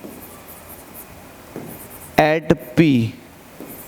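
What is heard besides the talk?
writing out a physics solution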